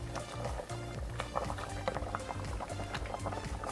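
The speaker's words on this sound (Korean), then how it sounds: "청양고추와 홍고추를 넣고 중불에서 2, 3분 더 끓여줍니다" A pot of soybean paste soup with napa cabbage, red and Cheongyang chili peppers, garlic and perilla powder bubbling over medium heat, giving a busy popping and burbling simmer with a low rhythmic thump underneath, fairly quiet and steady.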